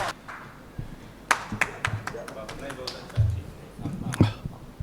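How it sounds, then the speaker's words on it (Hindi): Scattered, uneven handclaps ring out from the audience at a Hindi poetry gathering, a few sharp, separate claps and short bursts rather than full applause, with voices talking in between. "एक बार जोरदार तालियां सर के लिए बजाइए भाई"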